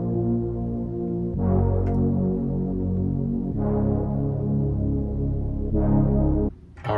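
Piano melody played through a synth preset in FL Studio for an upbeat, poppy midtempo track, sustained layered chords changing every couple of seconds, loud and alone.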